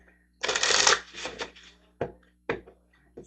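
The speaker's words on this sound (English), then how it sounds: "getting some moon cards out." Moon oracle cards being shuffled by hand: a dense riffling burst followed by a few short separate card slaps, close and clear with no talking.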